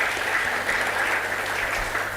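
Steady audience applause at an innovation and industry summit, a dense continuous patter of many hands filling the room for the whole stretch.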